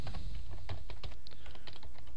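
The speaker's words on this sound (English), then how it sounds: "So let's start by typing in a list of names." Rapid typing on a computer keyboard, dense irregular clicks of keys pressed close by, with no voices.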